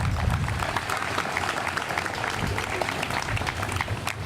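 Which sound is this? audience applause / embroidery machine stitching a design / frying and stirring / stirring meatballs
audience applause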